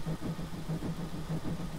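An LBSCR E2 class steam tank engine in Train Simulator 2017 struggles to gain speed: a steady low rumble carries evenly spaced pulses in a slow repeating rhythm, with no voices.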